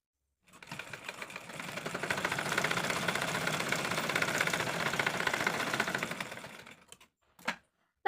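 A sewing machine stitches the hem edges of a simple kids' dress fabric, running in a steady continuous whir for about six seconds, then stopping, followed by a couple of brief clicks near the end.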